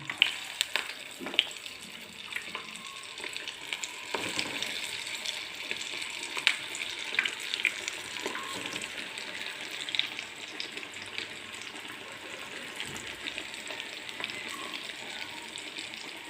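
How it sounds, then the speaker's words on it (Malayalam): Sweet potato vada frying in hot sunflower oil in a kadai, a steady close sizzle with scattered sharp pops and crackles throughout. "ഓയിൽ ചൂടായിട്ടുണ്ട്. ഞാൻ വട ഇട്ട് കൊടുക്കാം."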